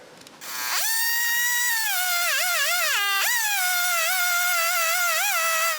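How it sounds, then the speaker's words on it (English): A small chainsaw on a mill cuts planks from a big log, its steady high-pitched engine whine close and loud, pitch dipping and recovering as it bogs in the heavy cut, no talking. "It takes more than 10 minutes to cut a plank. This is really too big for my small saw."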